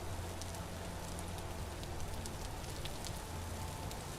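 Steady rain pours down throughout in the video game Vintage Story, a dense, even hiss with scattered brighter drop ticks and no voices.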